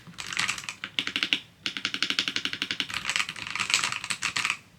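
Rapid typing on a new computer keyboard, with dense, even clacks of the keys in quick bursts and a short pause, close and clear, with no voices.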